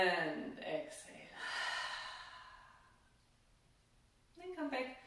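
Deep breaths during a gentle breathing exercise, a long audible inhale and slow exhale, soft and close, with a voice speaking around them.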